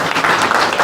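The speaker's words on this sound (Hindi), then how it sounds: "एक बार तालियां हो जाए।" Audience applause at a Hindi poetry recital, a dense burst of many hands clapping together, loud and close, with no voices over it.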